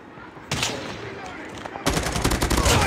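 Gunfire crackles in the mobile shooter game Call of Duty Mobile: a burst of rapid automatic shots opens, then a second, denser stretch of fast repeated shots that keeps going to the end, loud and close.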